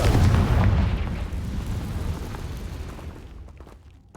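A Confringo fire spell detonates in Hogwarts Legacy, a loud, booming blast that rumbles and then slowly fades away.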